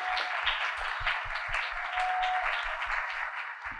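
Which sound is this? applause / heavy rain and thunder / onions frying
applause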